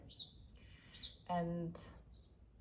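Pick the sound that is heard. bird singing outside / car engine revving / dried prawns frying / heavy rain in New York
bird singing outside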